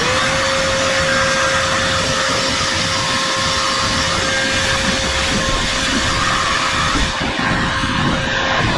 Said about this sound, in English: Consuelo, will you turn the vacuum on for me?